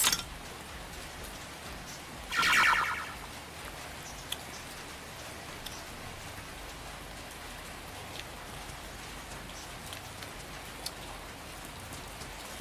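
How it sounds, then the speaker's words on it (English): Rain falling and pattering on surfaces, a soft, even hiss of drops throughout, with one brief louder swell of water early on and a few faint knocks. "It's fucking raining"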